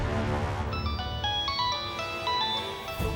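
A mobile phone rings with an incoming call, a melodic electronic ringtone of bright stepped tones repeating for about three seconds over a low room hum, with no talking.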